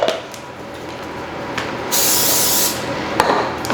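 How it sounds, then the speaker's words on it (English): Cooking spray from a can is spritzed over tortilla chips for a cinnamon-sugar snack, a few short hissing bursts followed by one longer spray of about a second, close and alone. "I'm pretty sure I just sprayed these."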